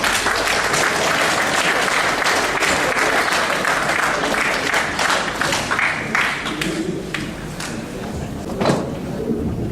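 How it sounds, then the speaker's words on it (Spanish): A conference audience applauds a university lecturer as he is welcomed, with loud, dense clapping that holds for several seconds, then thins and fades, ending in a few scattered claps and a thump. "Recibámoslo con un fuerte aplauso y muy caluroso"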